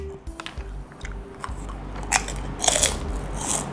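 Crunchy Korean fried chicken bitten close up, with sharp crackling crunches and chewing in quick succession, loud and near, with no talk.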